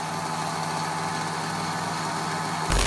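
A just-started moped engine idles with a steady, rough buzzing drone, close and fairly loud, ending in a brief louder burst.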